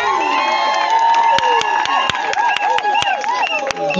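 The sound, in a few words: wedding guests cheering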